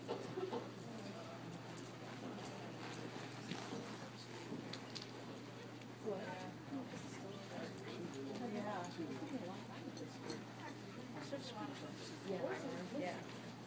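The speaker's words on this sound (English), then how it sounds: "Walk your horses, please." Horses walk on soft footing, hoof clops faint and irregular beneath steady talk and a low hum in a large arena.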